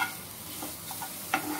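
A wonton filling seasoned with salt, pepper and coriander is stirred in a pan over a soft, quiet sizzle, with a few light spatula scrapes and one sharper tap near the end.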